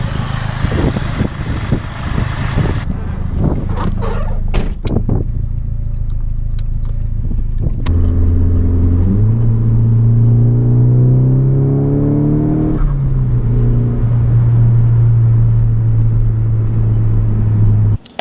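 A turbocharged Nissan 240 with a newly installed boost controller revs and accelerates loudly up through the gears, rumbling and rising in pitch, then settles into a steady, strong drone.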